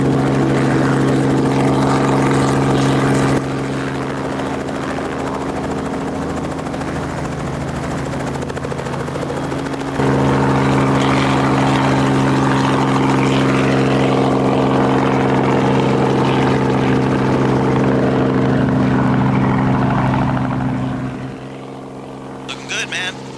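A helicopter departing North Las Vegas airport, heard from inside the cabin as a loud, steady rotor and turbine drone that stays close throughout, with radio and cockpit voices talking over it before it fades near the end.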